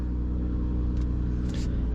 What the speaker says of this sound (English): It's a pretty quiet cold start